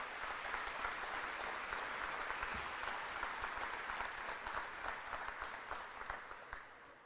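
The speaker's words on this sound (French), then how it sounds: "s'il vous plaît, une main d'applaudissement pour tous les gens qui sont ici de partout autour de la péninsule acadienne" Sustained applause from an audience at an investment announcement event in the Acadian Peninsula, a dense steady wash of clapping lasting several seconds and tapering slightly at the end, with no voices over it.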